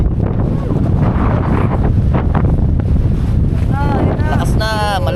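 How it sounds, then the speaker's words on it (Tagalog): Strong wind buffets the microphone with a steady roar throughout, with voices shouting over it and a brief whistling tone near the end. "Malakas ang hangin."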